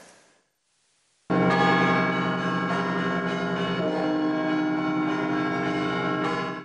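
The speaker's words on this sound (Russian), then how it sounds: "Сегодня над Екатеринбургом разлился благовест 16-тонного колокола с колокольни храма Большой Златоуст" A 16-ton church bell rings out from the Bolshoy Zlatoust bell tower in Yekaterinburg, one massive loud strike after brief quiet, its rich metallic hum sustaining and slowly swelling with overtones for several seconds.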